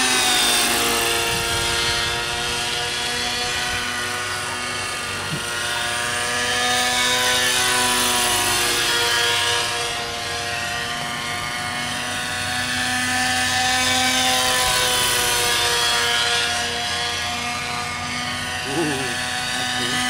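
A nitro-powered RC helicopter flies at less than full throttle, giving a steady high-pitched engine whine with shifting rotor tones that rise and fall throughout, while people talk nearby.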